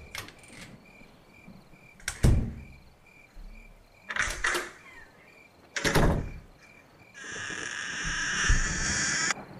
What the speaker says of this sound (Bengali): হঠাৎ দরজা খোলার একটা আওয়াজ শুনতে পাওয়া গেল।